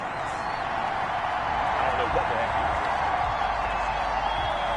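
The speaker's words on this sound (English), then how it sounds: "Well, the crowd doesn't like that" A stadium crowd in a football video game roars in steady, broad displeasure after a penalty flag on third down, a continuous wash of booing noise with commentary voices talking over it.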